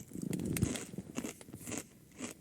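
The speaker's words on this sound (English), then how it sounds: "Crunch alert." A snack crunched between the teeth, several crisp bites and crackles close up, loudest early and tapering off, with no talking over it.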